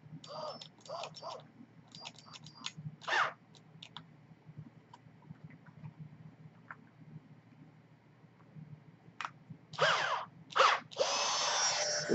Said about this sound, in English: We're just going to chuck this up on that nipple in the drill, and we are going to sand it down.